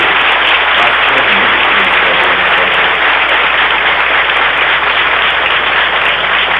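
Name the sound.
applause for Dom Francisco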